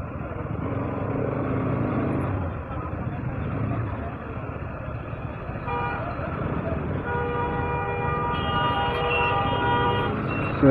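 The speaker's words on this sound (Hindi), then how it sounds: "यहाँ पे देखते हो इतनी सारी ट्रैफिक है गाइस यहाँ पे" Busy road traffic in Hailakandi: a continuous rumble of car, truck and motorcycle engines, with repeated horn toots and sustained honking building up in the second half, fairly close and loud.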